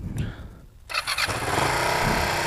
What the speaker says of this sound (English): So you can hear when it idles, it's got a real nice kind of rumble.